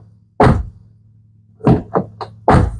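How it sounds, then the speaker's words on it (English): Several solid door thunks on a 6.7 Powerstroke diesel truck: one firm close, then a quick cluster of three lighter knocks and another firm shut, over a low steady engine hum. "The door has that nice quality thunk to it,"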